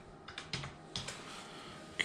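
Keys tapped on a computer keyboard to enter a zip code, a handful of light, separate clicks spaced unevenly across two seconds, close and quiet, with no talk.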